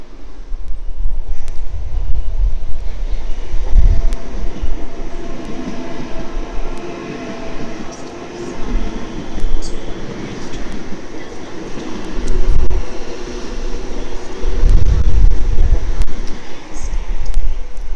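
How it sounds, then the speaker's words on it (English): Sydney train passing platform 2 at Redfern station on a Gosford service, a loud, close rolling rumble with heavy low thumps of wheels over rail joints and faint squeals, no talk. "another train passing platform 2 for a Gosford service"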